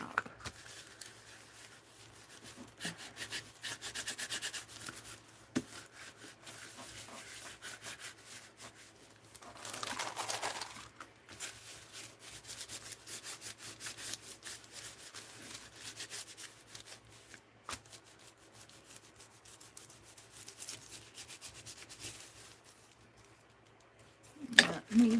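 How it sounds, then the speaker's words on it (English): Paper is burnished with a cap during mixed-media art journal work: soft, close rubbing and scraping strokes repeat unevenly throughout at low volume, with a sharper scuff near the end. "Maybe I'll burnish it with the"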